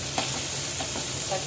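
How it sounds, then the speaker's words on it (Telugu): Green chillies frying in a hot pan for a peanut chutney served with dosa, a continuous loud sizzle with a few scraping stirs of the utensil, close up and without talk. "పచ్చిమిరపకాయలు దోరగా వేసుకొని కదండి"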